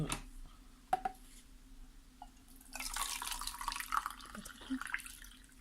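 Tap water running into a bowl while preparing lukewarm water for crêpe batter, a steady hiss of flow building after a few faint drips and clinks, close and moderate in level with no talk.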